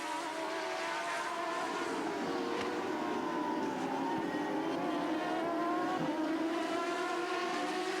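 CART race cars scream past on a circuit, their high-revving engines forming a continuous, sweeping whine with pitch shifts as the cars rise and fall through the gears, with no talking.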